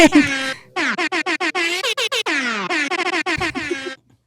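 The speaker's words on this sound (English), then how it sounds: "Should we give him the super air horn?" A rapid string of short, loud air horn blasts stutters in quick rhythmic bursts, blaring close up for several seconds.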